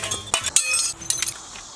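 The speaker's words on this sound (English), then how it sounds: "Now I gotta pick up all this glass." Shards of broken glass from a damaged door are gathered up by hand, giving bright, scattered clinks and tinkles that come in small bursts, close and fairly clear, with no talking.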